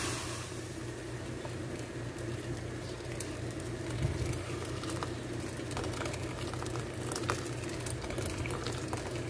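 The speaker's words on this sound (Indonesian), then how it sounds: "Tuang dengan air panas. Ini berasnya dimasak setengah matang ya." Rice boils in hot water in a pot, parboiled for chicken biryani. The bubbling is steady and churning and stays close and constant, with an occasional louder burble and no talking.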